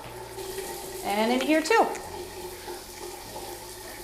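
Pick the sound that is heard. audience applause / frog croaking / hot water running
hot water running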